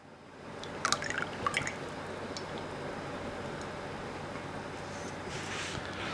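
Slightly melted butter is poured into a bowl holding two eggs and whole milk for popover batter, making a soft, continuous liquid trickle after a few brief drips and taps, fairly quiet and close.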